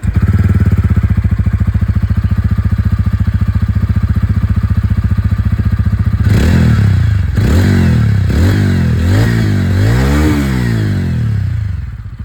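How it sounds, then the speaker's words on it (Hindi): A 2025 TVS Ronin 225 motorcycle engine idles with a steady loud thrum, then revs several times in rising and falling bursts, close up. "अब मैं आप लोगों को यहाँ पर जो रॉनिन 225 की आवाज़ है ये भी मैं आप लोगों को सुना दूँ"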